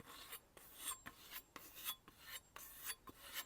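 Light, rhythmic sharpening strokes of a Wusthof kitchen knife on a Tormek T8 sharpener, about seven dry rasping passes evenly spaced, close and fairly quiet, with no voice.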